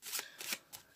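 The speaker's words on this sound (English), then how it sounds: "if you've seen somebody just shuffling a packet like that" A packet of playing cards is riffled in three quick bursts, close and fairly quiet, each a brief papery flutter.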